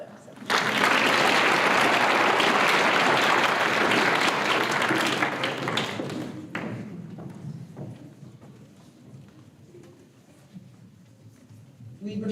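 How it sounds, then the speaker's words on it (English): An audience at a university senior awards night bursts into loud, dense clapping that holds for several seconds, then thins and fades to scattered claps and room murmur. "but we can still clap for them"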